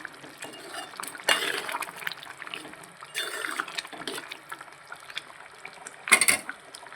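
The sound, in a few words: ivy gourd masala curry boiling in pot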